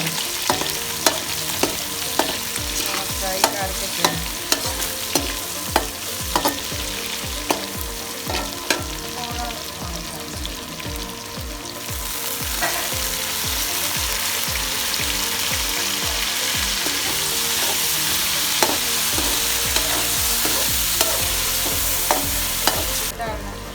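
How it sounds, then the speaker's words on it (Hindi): Garlic frying in a pan while cooking chicken yakhni pulao, a continuous sizzle with repeated sharp scrapes and clinks of a spoon stirring, the hiss swelling louder and brighter midway through. "लहसुन डाल रही। अब इसको थोड़ा सा फ्राई करें।"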